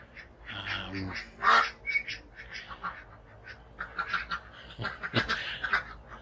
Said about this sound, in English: The ducks want to come out and have a wander around the garden by the sound of it.